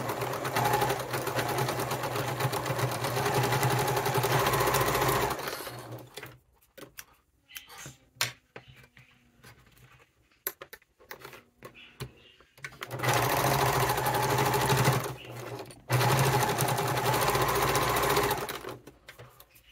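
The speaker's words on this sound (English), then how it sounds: "I'm going to sew these with a 1/4 inch seam allowance." A sewing machine stitches wallet pieces with a quarter-inch seam in two loud, steady runs of a few seconds each. Quieter fabric handling and small clicks fill the pause between them.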